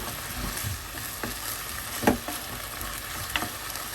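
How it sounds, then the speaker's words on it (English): Chopped basil and tamari soy sauce simmering in a pan, a steady close sizzle with a few soft stirring knocks and scrapes, fairly quiet and without talk. "add a little bit of chopped basilicum with 2 tablespoons of tamari soy sauce, and then mix them and let them simmer for a couple of minutes only"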